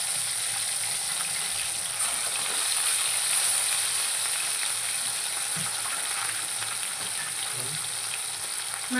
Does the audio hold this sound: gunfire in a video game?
no